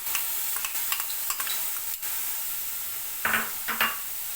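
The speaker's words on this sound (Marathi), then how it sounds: "कढई गरम झाली आहे तर त्या कढईमध्ये आपण हे चिरलेला कांदा आधी टाकून घेऊ." Chopped onion dropped into a hot kadhai, a continuous hiss of frying with sharp stirring clicks and scrapes of a spoon scattered across it, ending with two louder stirring bursts.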